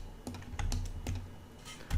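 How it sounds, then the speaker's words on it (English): Keyboard keys and mouse clicks during computer-aided design work on a PRS guitar model in Fusion 360, a few crisp close clicks spaced irregularly over a low steady hum, with no talking. "I'm going to control click to unselect it."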